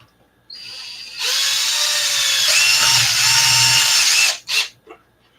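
Power drill driving oversized screws into an Arrma 6S RC car, a brief whine then a sustained loud strained whir for about three seconds, stopping with two short follow-up bursts, close and alone.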